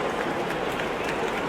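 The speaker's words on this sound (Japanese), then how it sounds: "ちょっと客席がどよめきというか歓声ではなくて妙な雰囲気になりました" Spectators in a sumo arena at the Nagoya tournament give off a dense, even murmur, a continuous stirring of many voices at moderate level without distinct cheers or clapping.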